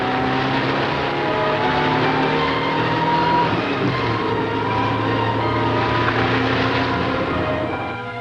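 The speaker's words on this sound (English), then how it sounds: "quiet French town echoes to the throaty roar of the various engines" Rally car engines rumbling and roaring through a quiet French town during the Monte Carlo Rally, a steady, dense drone of several motors that swells slightly midway and fades a little at the end.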